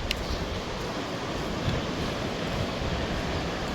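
Waves wash continuously onto a broad Irish beach, a dense, even rush of surf blended with gusty wind noise on the microphone, no speech present.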